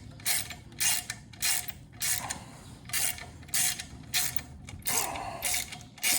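A ratchet working a long engine screw out of a dirt bike during engine removal, giving loud rapid clicking bursts in a steady back-and-forth rhythm with brief pauses between strokes.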